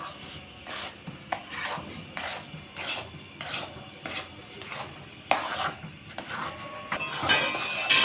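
Chana dal halwa with milk is worked around a pan, giving repeated rhythmic scraping and rubbing strokes of a spoon against the metal, close and fairly loud with no talk.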